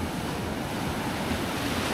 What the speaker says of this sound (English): The only thing is that the waves are quite strong.